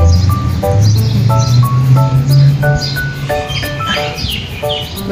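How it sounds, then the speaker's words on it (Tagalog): Several birds chirp and tweet in quick, repeated bursts close by on a fair-weather day in Dubai, layered over a low background rumble. "Daming ibon."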